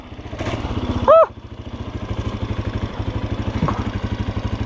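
An enduro motorcycle engine chugs steadily at low revs while tackling a steep hill climb on a rocky, branch-strewn slope, its close rhythmic putter continuing throughout with a brief sharp squeal partway in.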